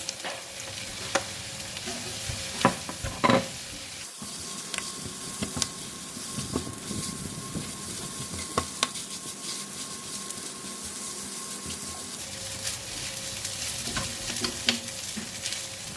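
Rice stir-fried in a pan with salt for salted fish fried rice, a steady close sizzle broken by repeated scraping and clinking of a spatula against the pan, with no talk.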